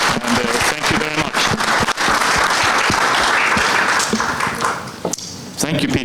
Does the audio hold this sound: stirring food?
no